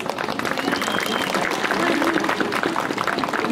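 An audience at a clown show claps and cheers steadily for a few seconds, a dense, fairly loud wash of applause with crowd voices mixed in.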